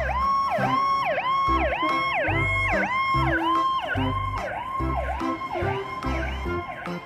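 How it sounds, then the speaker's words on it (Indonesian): A fire truck siren wails loudly and close by, rising and falling in fast repeating cycles, with low rumbling underneath. "Mobil truk pemadam kebakaran."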